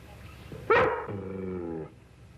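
A dog gives one loud, sharp bark followed by a drawn-out, harmonic bark or whine that fades away, heard close up in a 1957 Lassie television episode, with no one speaking over it.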